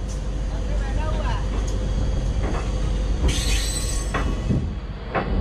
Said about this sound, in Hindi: हमारी ट्रेन अब छपरा जंक्शन से रवाना हो चुकी है।